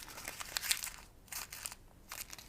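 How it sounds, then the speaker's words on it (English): A sheet of paper crumpled by hand during a classroom physics demonstration, heard as a few bursts of close, crisp crinkling with brief pauses between. "I have crumpled the paper"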